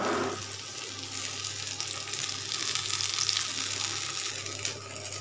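Bread fries in hot refined oil in a pan, giving a constant close, crackling sizzle with a low steady hum beneath, no voice present.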